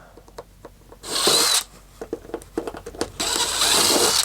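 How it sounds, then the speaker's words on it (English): Power drill boring pilot holes for metal wire-holding pieces while installing LED lights in a camper, in two loud bursts of steady whirring separated by clicks and handling knocks, with no talking. "Pre-drill the holes."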